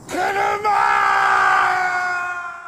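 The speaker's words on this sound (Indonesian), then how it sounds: "Uchiyamada pun langsung berteriak, saat melihat mobil baru yang diidam-idamkannya selama ini mengalami rusak parah." A man in an anime scene lets out one long, loud, sustained scream of shock that holds steady for a couple of seconds before tailing off, on seeing his badly damaged new car.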